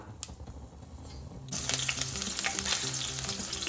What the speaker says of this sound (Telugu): ఆయిల్ వేడెక్కిందండి. ఫస్ట్ గ్రీన్ చిల్లీ వేసుకుందాం